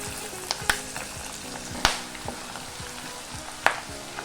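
Mustard seeds, urad dal, dried red chillies, cumin, curry leaves and crushed garlic sizzle in hot oil, a steady close hiss broken by sharp scattered pops and crackles; no one speaks.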